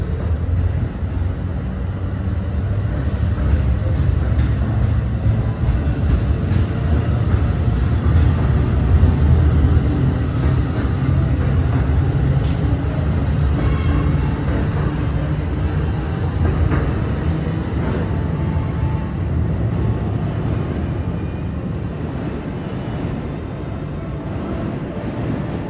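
Trains moving through Newark Penn Station in New Jersey, an Amtrak regional among them, produce a steady, loud low rumble and rolling clatter with faint higher squeals that carries on throughout and eases slightly toward the end.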